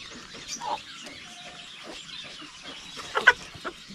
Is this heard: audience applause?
no